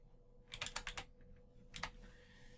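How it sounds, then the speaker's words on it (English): Quick, close bursts of typing on a computer keyboard, a rapid run of key clicks followed by a pause and then a shorter second cluster, in an otherwise quiet room. "I'm going to start typing United Kingdom"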